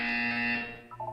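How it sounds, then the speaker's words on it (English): A steady electronic buzzer tone sounds in the video game Portal 2, loud and sustained before cutting off, followed by a short flurry of higher chiming notes. "You will hear a buzzer"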